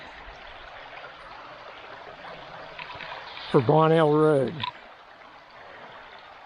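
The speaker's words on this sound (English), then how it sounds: "Let's see if we can get across this creek bed here without getting too wet." Creek water runs over a rocky creek bed beneath an old 1860s railroad bridge abutment in Dearborn County, Indiana. It makes a steady, close rushing wash throughout, and a voice speaks briefly partway through.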